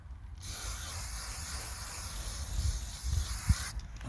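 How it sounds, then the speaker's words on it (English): Chain lubricant spray hisses from an aerosol can onto the blades of a Makita DUH506Z hedge trimmer, a steady close spray lasting about three seconds with a few faint handling bumps. "I have this chain spray and I just sprayed a little bit."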